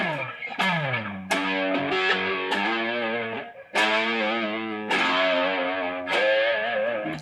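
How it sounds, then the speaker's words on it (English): Heavily distorted electric guitar through an effects unit with a chorus-like shimmer, playing sustained chords and bends in loud, continuous phrases with brief breaks. "I have to put on a little bit of distortion."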